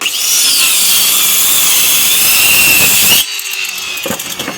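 A hand saw cuts through wood for a bed-frame joint with a loud, close, continuous rasp that stops abruptly after about three seconds, followed by a few faint knocks and handling sounds.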